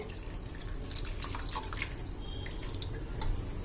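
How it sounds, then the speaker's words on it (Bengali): Coconut milk pours into a kadai of spiced gravy for prawn malai curry, a continuous close liquid trickle and splash with faint dripping throughout. "দু কাপ নারকেলের দুধ দিয়ে দিচ্ছি"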